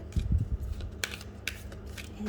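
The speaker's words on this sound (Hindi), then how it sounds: "तब तक जब तक मैं कार्ड्स को शफल कर रही हूँ" Tarot cards are shuffled by hand during a pick-a-card reading, giving a quick burst of close, papery riffling and flicking over a low background hum with no speech.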